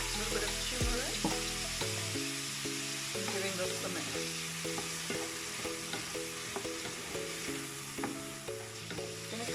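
Turmeric sizzles in hot oil in a pan of potato and calabash curry, a steady frying hiss with stirring scrapes, heard under background music.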